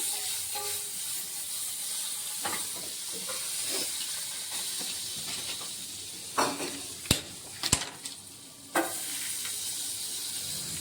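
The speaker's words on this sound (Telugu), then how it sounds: "ఇక్కడైతే వైట్ సాస్కి బటర్ మెల్ట్ అయింది కదా" Butter melting in a pan for white sauce, a continuous close hiss and sizzle with scattered crackles and a few sharp clinks or scrapes near the end, no voices.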